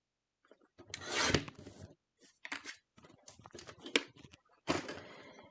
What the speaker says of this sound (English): I'll trim this piece down as well